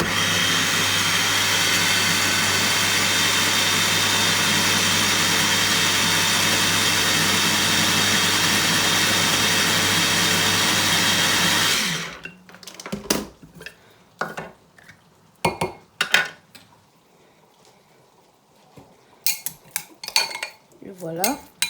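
A blender roars loud and steady for about twelve seconds, crushing okra, spices, garlic and parsley for tiebou dieune, then stops abruptly, leaving scattered clinks of a utensil against the container.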